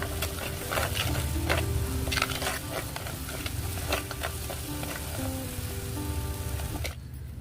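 Onion paste frying for mutton paya shorva, a close, steady sizzle broken by repeated scraping stirs of a spoon in the pan, ending abruptly.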